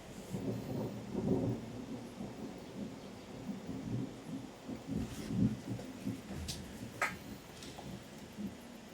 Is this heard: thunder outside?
yes